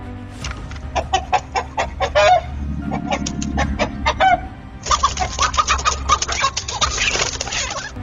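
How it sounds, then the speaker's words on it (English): Loud, agitated rooster calls in repeated harsh bursts, clucking and honking squawks over a steady low rumble, as a rooster fights an eagle up close. "Just as the eagle attacked, the rooster came back out to defend its place."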